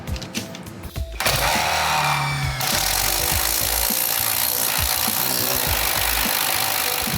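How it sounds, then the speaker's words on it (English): An impact driver spins a step drill bit through a workpiece, a loud, continuous grinding whir that starts abruptly and keeps going without pause. "we rotated and twisted the impact driver when drilling"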